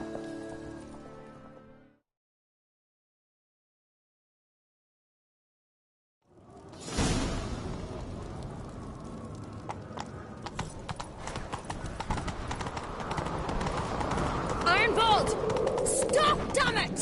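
Hooves of a Skyrim horse drum in a quick, steady galloping rhythm that grows louder and denser, following a brief stretch of game sound and several seconds of total silence.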